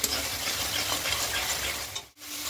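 Fish gravy for hilsa pulao simmers and reduces in a pan, a close, even sizzle with faint stirring scrapes that cuts out abruptly near the end.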